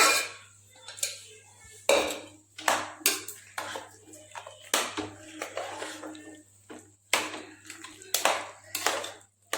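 Mashed tapioca being mixed with spice mix in a bowl, a run of irregular close knocks, taps and clinks from a utensil against the bowl, in uneven bursts over a low steady hum.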